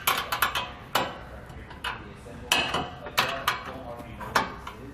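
A 16mm wrench tightening bolts while fitting a grille guard bracket on a truck: close, sharp metallic ratchet clicks and taps in an uneven rhythm of about a dozen strikes, with faint talk underneath.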